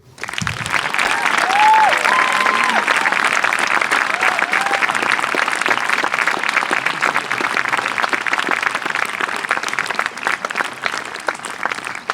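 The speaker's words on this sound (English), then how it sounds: "Please congratulate and join me in a round of applause to Grace Generous and Will Rieger." Sustained audience applause fills a school graduation ceremony for the class of 2019, steady and loud throughout with dense clapping from a large crowd and a few faint voices mixed in.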